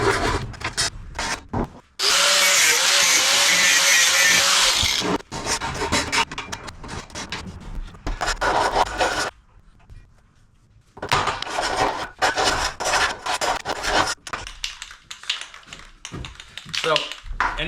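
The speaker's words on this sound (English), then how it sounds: "I'm gonna go ahead and go get a flat file, and I'm gonna just file these burrs off." A flat file scrapes burrs off a metal ATV trailer in close, rough, repeated strokes, with one long sustained bout followed by shorter irregular passes and a brief pause, while someone talks in between.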